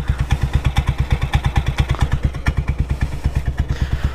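Yamaha Aerox scooter bored up to 200cc with an aftermarket Kares exhaust, engine running with a rapid, deep, evenly pulsing throb, close and loud, no voices.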